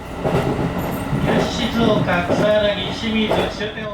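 A train ride in Japan heading back to Shizuoka: the steady rumble and rattle of a moving railcar runs throughout, with someone talking over it.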